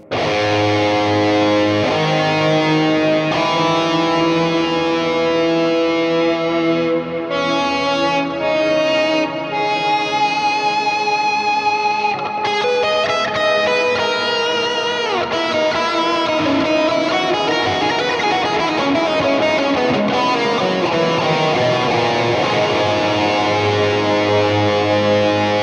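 An electric guitar runs through distortion into a GFI Skylar reverb pedal set with a descending octave, playing loud sustained distorted chords and notes with long washing reverb tails, with no voices.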